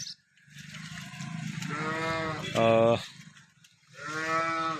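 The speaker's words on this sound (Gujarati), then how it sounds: "તમામ ગાયો આજની ત્રીસ તારીખની હાજરમાં છે" A cow lows repeatedly, several drawn-out moos close by, rising into a louder call midway and another moo at the end.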